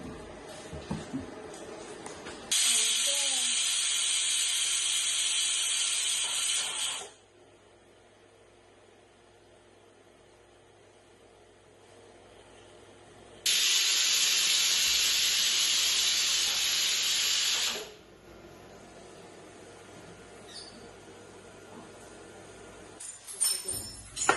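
A pressure cooker on the stove hisses out steam in two long, steady, loud bursts of several seconds each, separated by quieter stretches of low background hum.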